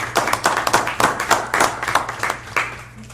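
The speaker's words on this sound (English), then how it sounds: "let's give him and his company a round of applause for this" A round of applause at a school district board meeting: a modest group clapping steadily for a few seconds, fairly close and without speech.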